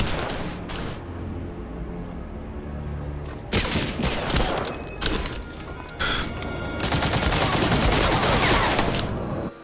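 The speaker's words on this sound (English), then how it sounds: "Machine gun is so accurate." Sustained heavy machine gun fire in a video game, loud and close, coming in dense bursts with short breaks, and a sharper, heavier volley near the end.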